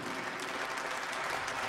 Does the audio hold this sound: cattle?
no